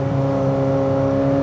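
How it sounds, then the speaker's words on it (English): A Corvette C8 Z06 with a full titanium exhaust and open valves holds a steady, loud engine note as it is given a little gas, with a smooth, droning tone close by. "So I'll just give it a little gas."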